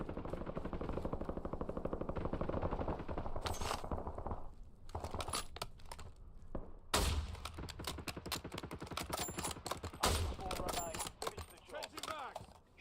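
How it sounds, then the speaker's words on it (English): Bursts of automatic gunfire in the battle royale game Warzone, rapid rattling shots with sharp louder cracks at moments, fairly quiet overall with some game sounds mixed in. "He's shooting somebody right in front of me"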